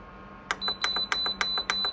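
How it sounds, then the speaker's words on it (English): A series of short electronic beeps from a DeLonghi HFX60O15L ceramic heater control panel in a quick, even rhythm, about seven tones, close and moderately loud against a quiet background. "That's where the beeping gets very annoying."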